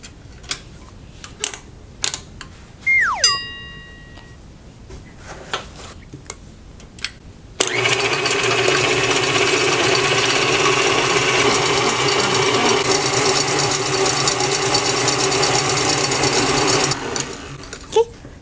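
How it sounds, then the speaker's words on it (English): An electric mixer beats egg whites with sugar to stiff peaks, running as a loud, continuous whir from about 7.5 seconds to near the end, after scattered clicks and kitchen handling sounds. "we're just beating them until stiff peaks"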